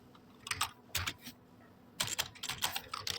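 Typing on a computer keyboard while writing in Notepad, two quick bursts of clicking keystrokes with a pause between, fairly close and alone with no talking.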